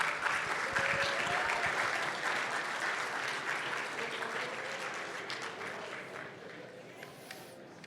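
A reception audience claps and cheers for past honorees at a mayors' tribute event, sustained dense applause from a crowd that stays loud throughout and eases slightly toward the end.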